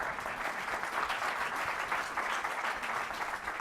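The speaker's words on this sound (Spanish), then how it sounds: "un fuerte aplauso para las madres" Steady, dense applause from an audience at a lecture on circular economy applied to emulsions, sustained evenly throughout with no speech over it.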